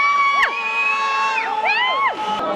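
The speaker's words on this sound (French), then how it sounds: "Les gens, plus ils crient fort, plus les fontaines vont haut. Donc les gens, ils hurlent comme des fous." A large crowd at a fountain show in Xi'an, China yells and screams loudly, many overlapping voices with rising and falling wails, close and sustained throughout.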